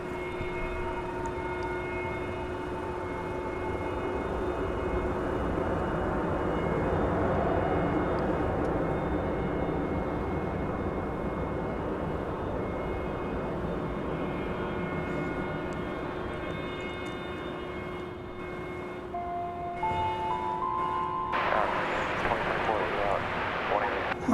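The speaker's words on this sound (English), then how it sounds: "It's Frontier Airbus A320, arriving from the Mile High City" Frontier Airbus A320 jet arriving at DFW at night from Denver, a sustained engine roar with a steady whining tone under a talking voice, swelling slightly midway before a brief sharper burst of noise near the end.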